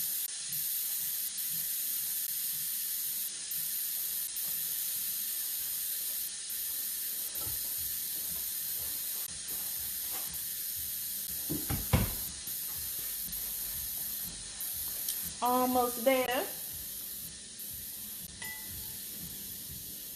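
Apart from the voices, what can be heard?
steam releasing from an Instant Pot pressure cooker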